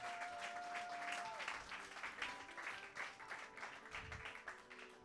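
A church congregation breaks into applause, many hands clapping in a steady sustained patter at fairly low level, with a sustained tone fading early on and a low thump near the end.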